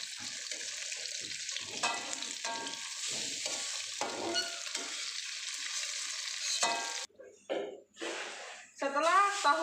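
Tofu and tempeh frying in hot oil give a steady, close sizzling hiss, broken by stirring clatter, then some louder sharp crackles near the end.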